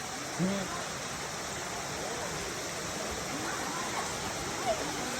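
Erawan Falls in Thailand roars as a steady, dense rush of water, loud and unchanging throughout, with a couple of faint distant voices barely rising above it.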